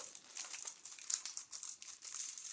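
Packaging around false eyelashes being unwrapped, a quiet run of crinkling and crackling plastic in irregular bursts, close up with no speech.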